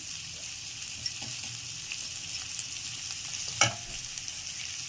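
An asafoetida (hing) tempering fries in a pan with a steady soft sizzle, punctuated by occasional stirring scrapes and one sharper clatter near the end.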